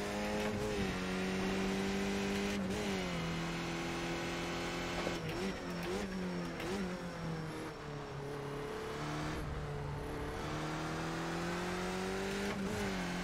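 A race car engine in a sim racing video game drones steadily, its pitch rising and falling through gear changes and revs, with occasional tire squeal and no talking over it.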